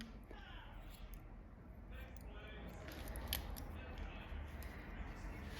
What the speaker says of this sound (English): you can see that I've just cut around her ear there